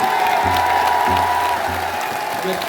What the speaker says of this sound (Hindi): जाना चाहिए दिल्ली तक आपकी तालियां।